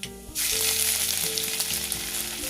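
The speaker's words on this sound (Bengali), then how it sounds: "এই আদাটাও তেলের মধ্যে ভেজে নেব" Ginger paste hits hot oil already seasoned with cumin, bay leaves and dried red chillies, bursting into a loud, close, steady sizzle after a brief quiet start.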